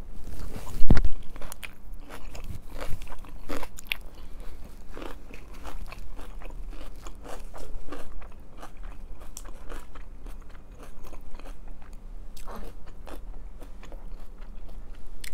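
Close-up crunchy chewing of a huge salad, with wet crisp bites and steady mastication continuing throughout, loud and near with a low background rumble.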